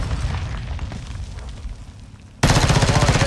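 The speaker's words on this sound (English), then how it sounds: "You are taking effective fire." Gunfire in Call of Duty DMZ, a steady rattle of shots that suddenly jumps to a loud, dense barrage of rapid close gunfire with booming impacts.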